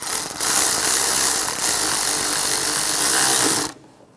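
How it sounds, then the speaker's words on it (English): A ratchet tightening bracket bolts on the valve covers of a 1996-2002 Toyota 4Runner, a loud continuous rapid clicking whir lasting several seconds, then stopping abruptly. "Tighten that down."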